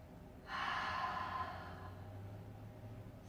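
One slow, deep breath during a yoga session, a soft airy exhale that swells, then gradually fades over a couple of seconds, close and quiet with no talking.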